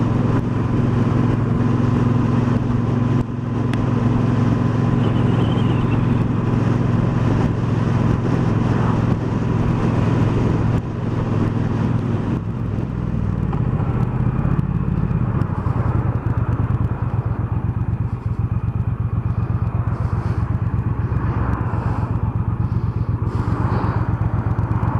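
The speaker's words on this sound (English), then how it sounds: "You can probably hear the wind noise in the camera." Wind buffets the camera while riding a 2018 Triumph Bonneville Bobber, a naked motorcycle, giving a constant loud roar over the low engine rumble throughout, with no talking.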